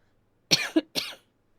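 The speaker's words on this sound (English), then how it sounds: "Sorry about coughing." Two or three short, close coughs in quick succession, loud against an otherwise quiet indoor background.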